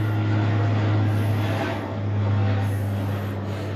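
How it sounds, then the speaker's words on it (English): A small propeller airplane drones steadily overhead, a constant engine hum that swells and eases slightly while it passes at moderate distance. "Cool little airplane."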